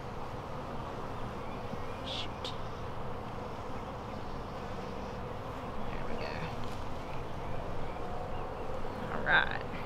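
Honeybees buzzing steadily around an open beehive during an inspection, a soft continuous drone with faint outdoor background, slightly louder toward the end.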